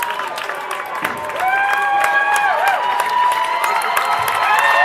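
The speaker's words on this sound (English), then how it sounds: "Now the crowd's really getting up and going. They're on their feet." A girls' high school postseason basketball crowd on its feet cheers and claps, swelling louder partway through, with whistles and yells over the steady roar while an announcer talks over it.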